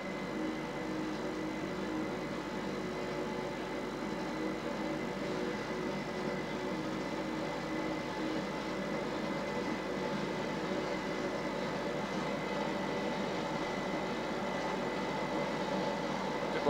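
A Boeing 737's engines hold takeoff thrust during the takeoff roll at Hong Kong, heard from inside the cabin as a steady, even, broadband roar with a faint hum that stays constant throughout.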